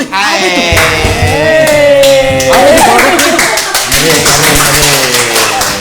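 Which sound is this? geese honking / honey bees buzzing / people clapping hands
people clapping hands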